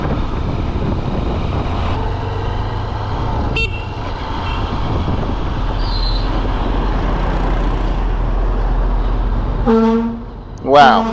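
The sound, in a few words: truck honking its horn in traffic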